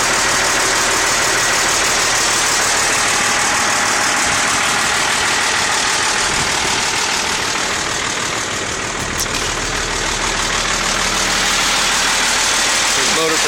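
A truck engine idles steadily and loudly nearby, a continuous rumbling drone with an auxiliary PTO running, with no pauses.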